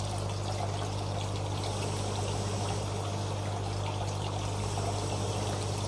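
Water flowing slowly into a DIY 18-hole hydroponic pipe system, a continuous pouring trickle with a steady pump-like hum underneath, close and even throughout, no talk.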